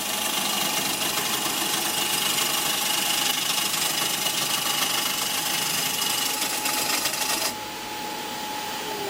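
A woodturning lathe spins a bowl blank while a tool glides lightly along the cut, giving a steady, close mechanical hum with a faint whine that drops slightly in level near the end.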